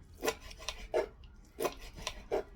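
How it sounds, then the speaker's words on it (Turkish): A knife chops cooked tripe into small pieces for soup on a board, with six crisp, close cuts in an uneven rhythm and quiet gaps between them. "Şimdi küçük küçük çorbalık doğruyorum."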